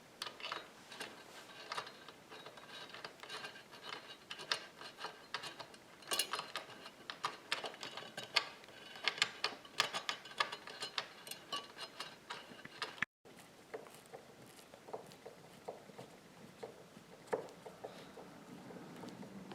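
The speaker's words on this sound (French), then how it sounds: "c'est l'installation des toutes petites vis sur le côté" Small screws being driven by hand into the side of a new sofa, a quiet scatter of light ticks, clicks and scrapes repeating unevenly up close, with a brief dropout partway through and no talking.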